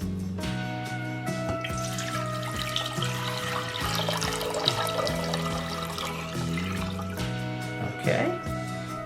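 Water pours steadily into a pan while refrigerator dill pickle brine is being made. A continuous splashing flow sits under a constant humming, tonal background for about nine seconds.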